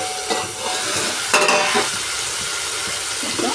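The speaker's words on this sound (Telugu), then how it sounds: "5 మినిట్స్ మగ్గిన తర్వాత అందులో కొంచెం పసుపు, కారం, సాల్ట్, చింతపండు రసం వేసి మగ్గనిద్దాం" Home-made sambar cooks in a pot after turmeric, chili powder, salt and tamarind juice are added, with a steady close sizzle and bubbling plus a few brief scraping stirs of a utensil.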